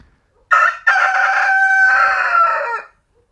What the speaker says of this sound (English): thank you, Rooster, right on cue